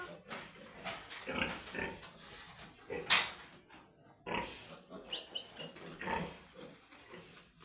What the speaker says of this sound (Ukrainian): Свиноматка качається.